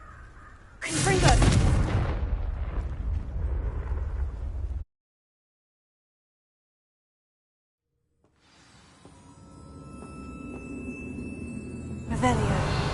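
A Confringo blast spell in the Hogwarts Legacy video game bursts out as a loud, sharp explosive boom, followed by a lingering rumble. Then comes a stretch of silence, and ambient game sounds slowly swell back in.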